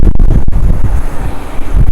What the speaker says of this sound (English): And this is super windy